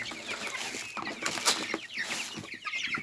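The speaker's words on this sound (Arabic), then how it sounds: "فراخ جعانه جدا جدا" Hungry farm chickens clucking in a busy flock, overlapping calls and scratchy squawks with occasional wing flaps, moderately close and fairly quiet.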